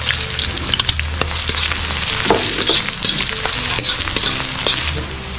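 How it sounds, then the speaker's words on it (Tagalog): Onion and garlic sautéing in a hot pan, a steady dense sizzle with scattered clinks and scrapes of stirring, close and loud throughout, no talk. "start na tayo mag-gisa. Maglagay lang tayo ng sibuyas. Sunod na rin natin ang bawang."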